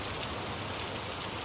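Rain falls steadily on surfaces near a tin roof, a dense, even hiss with scattered louder drops and no talk.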